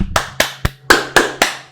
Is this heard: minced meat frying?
no